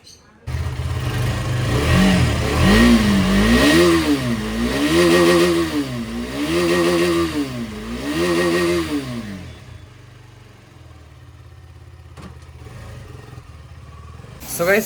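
A motorcycle engine starts up nearby, revving in repeated rising and falling surges before settling and fading as the bike rides off, with someone talking over it.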